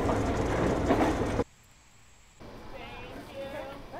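A small tourist train rumbles along its rails up close for over a second, then cuts to quiet with a thin steady whine, followed by faint background noise and a distant voice.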